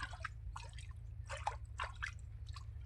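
Water drips in irregular, faint drops from a rock spring in a hillside cave, several over a few seconds, above a low steady hum.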